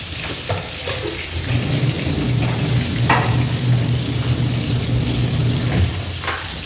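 Spices such as chili powder, coriander powder and biryani masala are stirred into a sizzling mixture in a pan while cooking dal rice, giving a steady frying hiss with soft scraping throughout, no voices.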